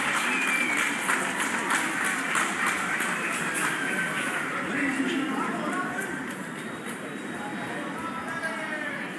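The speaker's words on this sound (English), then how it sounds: "I want a nice round of applause for these two." A fight night crowd applauding two boxers, a dense, sustained wash of clapping and cheering that holds steady and then eases slightly toward the end, with voices mixed in.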